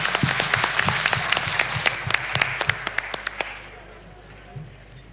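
An audience at an Ibero-American summit in Bolivia claps in a crisp, lively round of applause that thins out and fades to near quiet, with a voice speaking over it.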